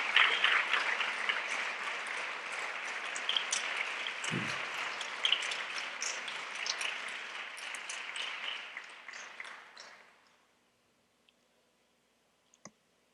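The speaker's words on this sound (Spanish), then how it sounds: "dele un aplauso." A church congregation applauds during a Spanish-language sermon, a dense sustained round of clapping that fills the room for about ten seconds, then stops abruptly into near silence with a couple of faint isolated ticks.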